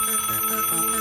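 A telephone rings steadily with a bright, sustained electronic tone in a cartoon comedy scene, loud and close with no speech over it.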